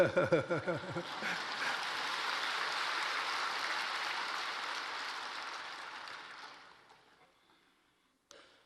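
A church congregation breaks into sustained clapping after a brief voice at the start; the applause is moderately quiet and steady, then tapers off and fades out.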